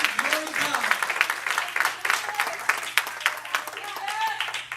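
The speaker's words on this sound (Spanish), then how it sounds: "Aplauso al Señor, la iglesia." A church congregation claps and applauds continuously, with voices mixed in throughout at moderate volume.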